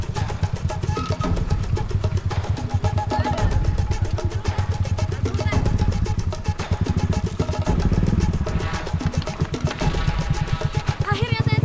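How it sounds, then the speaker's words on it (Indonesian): A modified motorcycle engine chugs loudly and close by on a rural road in Cianjur, with a rapid, rough pulsing rhythm that rises and falls as it rides along. "Kami harus naik motor modifikasi menuju ke pasar."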